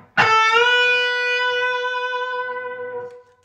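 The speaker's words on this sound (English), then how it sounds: "I'm going to wiggle the string up and down." A single electric guitar note bent upward, then held with a slow wavering vibrato as the string is wiggled, ringing clearly and alone before fading.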